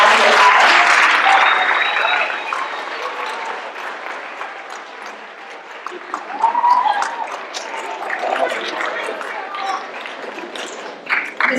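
An audience of students applauds Holocaust survivor Stanley Bernath as he is welcomed to speak, a full round of clapping that starts loud, gradually thins and fades, then swells briefly again near the end.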